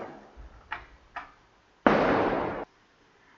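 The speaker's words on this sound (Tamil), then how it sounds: "இருங்க, பட்டாசு வெடிச்சிட்டு இருக்கு ஒரு 2 minutes." Firecrackers bursting outdoors, a few short pops followed by one longer crackling burst, heard at a moderate distance with quiet gaps between them.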